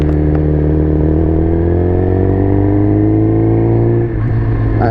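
A Suzuki motorcycle engine runs steadily at idle while warming up, a loud continuous low rumble with a slight dip near the end.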